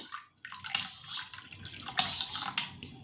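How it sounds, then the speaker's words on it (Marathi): Water is poured into curd in a kitchen while a rice-flour batter is being prepared, giving a continuous splashing, trickling pour with a few louder surges, close and fairly steady throughout. "ह्या दह्यामध्ये मी पाणी मिक्स करते"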